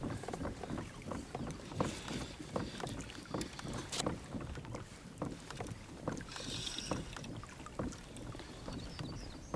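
Kayak drifting on water during fall trout fishing, with soft paddle or hull knocks and light water sloshing, faint wind buffeting the microphone and no talk.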